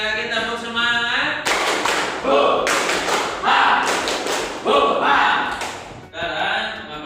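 A classroom of students repeats a rhythmic spirit clapping cheer, a tonal voice first, then tight bursts of group claps in a set pattern with shouted chants, loud and close.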